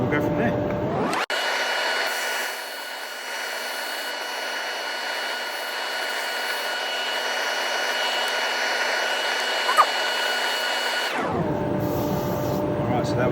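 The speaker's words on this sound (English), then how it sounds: "I'm now going to go with 100 grit on my inertia sander" An inertia sander with 100 grit paper runs steadily on a turned resin sphere, a loud continuous whirring hum that starts abruptly, holds for about ten seconds, then cuts off, with motor noise before and after.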